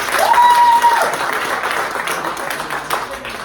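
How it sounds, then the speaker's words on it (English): Business owners at a mindset training session applaud themselves in a loud burst of clapping, with a brief whoop or voice rising early and the applause tapering off gradually. "give yourselves a huge round of applause"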